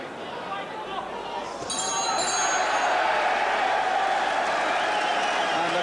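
Boxing crowd at a live fight breaking into loud, sustained cheering and applause, swelling after a quieter murmur and holding steady as a dense roar of clapping and voices.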